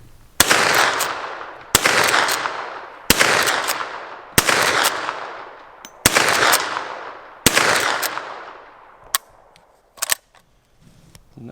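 A Citadel LEVTAC-92 lever-action rifle fires six sharp, loud shots spaced about a second and a half apart, each cracking then ringing off, followed by a couple of fainter clicks and knocks at the end.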